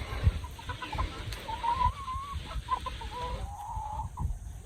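Chickens cluck on a farm among young birds of several breeds, with soft repeated clucks and a faint warbling call rising over steady outdoor background noise.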